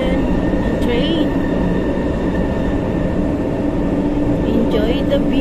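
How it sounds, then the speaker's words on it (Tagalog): An oncoming MRT train passes on a rainy day, heard from aboard a moving train as a loud, continuous rail rumble and roar with faint squeals. "So, may kasalubong kami ng LRT, na MRT din, ng train."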